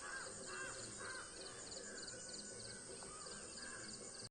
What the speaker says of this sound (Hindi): कौआ सबके आवाज देखियो भैया।